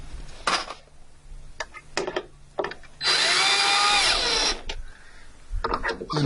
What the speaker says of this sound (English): And put these screws in.